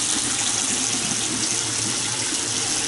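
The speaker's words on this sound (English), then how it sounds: "Sink water pressure is good, and that's with the shower on." Hot water gushing steadily from a bathroom sink tap in an apartment, a loud, close, continuous hiss and splash with no talk over it.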